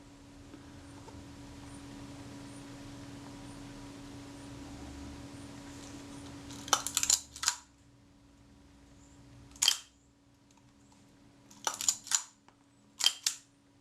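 After a quiet hum, the shutter of a Reflex IV camera fires several times: sharp mechanical clicks, some in quick double snaps, spaced a few seconds apart, with a distinct delay between closing and firing.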